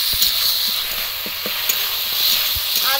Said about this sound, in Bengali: আদা কাঁচা গন্ধ যাওয়া পর্যন্ত মশলাটা একটু কষিয়ে নেব